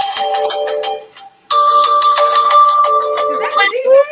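A phone ringtone plays a bright electronic melody during a live radio show, pausing briefly then resuming louder, with a voice speaking over part of it.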